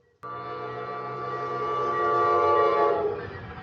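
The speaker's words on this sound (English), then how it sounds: "There's the train again." A train horn blares loudly and steadily for about three seconds, a sustained chord with rumbling underneath, then cuts off abruptly.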